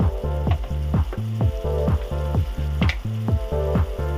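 Onions fry with chili powder and turmeric in a pan for egg curry, giving a steady loud sizzle broken by rhythmic stirring scrapes.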